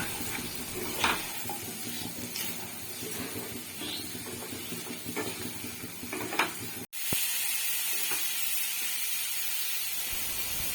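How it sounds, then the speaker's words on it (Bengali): Masoor dal with vegetables frying in a pan after salt and turmeric go in, a steady hissing sizzle with occasional clinks of a spoon against the pan, close and moderately quiet. "নুন হলুদ দেওয়ার পর এটা একটু ভেজে নেব।"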